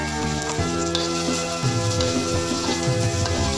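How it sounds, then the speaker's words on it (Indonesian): Shallots and garlic fry in hot oil with a continuous, dense sizzle, while steady stirring adds a rhythmic scraping pattern throughout. "Lalu kita goreng bawang merah dan putihnya"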